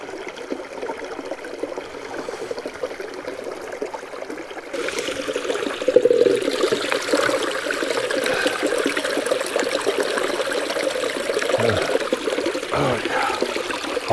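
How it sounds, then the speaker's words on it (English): A small snowmelt creek in an old-growth forest in Teapot Valley trickles and burbles steadily in August, growing a bit fuller partway through, with no talking. "this little snowmelt creek"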